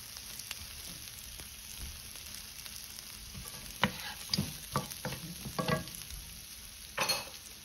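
Frozen vegetables fry in butter in a pan for chicken fried rice, giving a low, steady sizzle. Intermittent scraping stirs become louder and more frequent in the second half.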